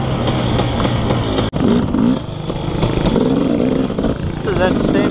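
Dirt bike engine on an enduro trail ride over rocky ground, loud and close, with revving pitch sweeps and a brief cut around the middle, plus clattering and wind.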